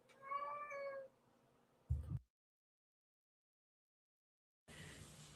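A cat meows clearly with a drawn-out harmonic cry, then gives a short low thump-like sound, falls silent and is followed by faint rustling noise near the end.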